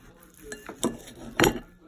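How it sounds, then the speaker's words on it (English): A knife cuts and scrapes through a cheese-stuffed, bacon-wrapped rib glazed in sweet hickory sauce at a meat festival, making a few sharp clinks against a plate or board with no talking. "Let's see how it does when we cut."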